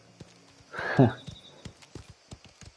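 A horse's hooves clip-clop in the video game Mafia: The Old Country. Light, spaced hoof clops run throughout, with a louder breathy horse snort or whinny burst near the one-second mark.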